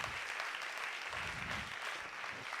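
A church congregation at a Portuguese-language leadership training service applauds steadily and loudly, a dense wash of many hands clapping together without pause.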